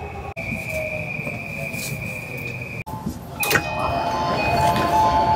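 A Tokyo train rolls along steadily with a high metallic tone, then grows louder with squealing wheels and rumbling carriages.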